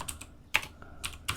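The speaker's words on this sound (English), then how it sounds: "let me just type this out and I'll explain what's going on." Short bursts of keystrokes on a computer keyboard as code is typed, a few quick taps clustered at the start, middle and end, close and fairly crisp with no voice over them.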